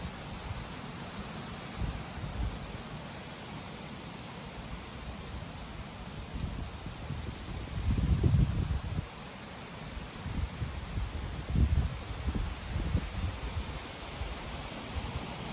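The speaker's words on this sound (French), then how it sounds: "Voilà, le vent est bien fort." Strong wind blowing outdoors in mid-September, a steady broadband roar with low rumbling gusts swelling around the middle and again near the end, no voices.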